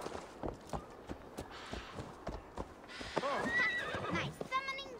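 A horse whinnies loudly in the video game Assassin's Creed Valhalla over steady clip-clopping hooves, with a second shrill neigh near the end; the sound is close and lively.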